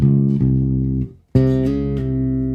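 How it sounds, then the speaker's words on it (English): A bass guitar plays a minor second interval, sustained notes ringing clearly with a brief silent gap before the notes sound again, plucked note changes audible and no voice over them. "So a minor second sounds like this."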